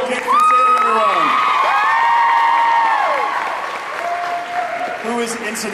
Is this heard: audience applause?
yes